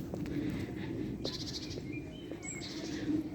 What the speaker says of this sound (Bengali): পাখিদের কনভারসেশন।